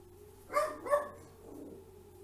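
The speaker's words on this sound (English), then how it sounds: "I have to shut my dog up." A pet dog barks indoors, two quick sharp barks close by followed by a softer low grumble, with no talking over them.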